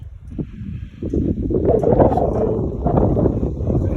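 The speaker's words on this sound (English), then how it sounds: "The wind, you can probably hear that now." Gusting wind rushes through a young avocado orchard in Zone 9B, a loud, close, steady roar that swells after the first second and buffets the microphone, with no one speaking.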